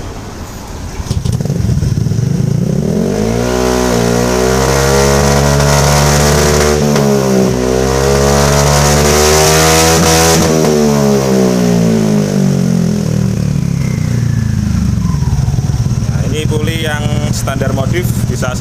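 A cold-engined Honda Vario 125 scooter fitted with an Nmax pulley revs up and down, its buzzing engine pitch sweeping higher and then falling back, loud and close, with a voice talking over it.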